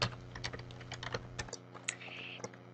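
Quick bursts of keystrokes on a computer keyboard, light close clicks in an uneven rhythm, quiet and with no talk.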